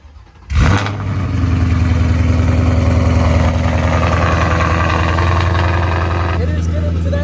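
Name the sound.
2024 Mustang GT exhaust running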